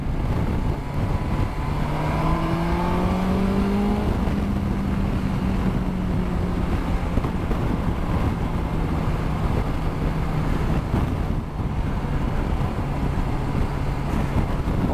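A 2021 BMW S1000XR sport-touring motorcycle pulls hard under acceleration on the road, its engine note rising steadily beneath heavy wind rush, loud and continuous throughout.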